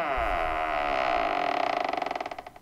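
The door of a retro PC case swings open with a drawn-out creak that turns into a fluttering, stuttering squeak as it slows, close and clear with no voices.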